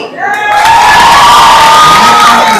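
A college event crowd at a movie team appearance erupts in loud, sustained cheering and clapping, with whoops and shouting filling the hall close by and steadily for the whole stretch.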